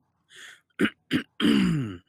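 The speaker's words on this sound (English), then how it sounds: "I'll just clear my throat." A man clears his throat up close in a short sequence: a light rasp, two sharp hacks, then a longer gravelly rumble.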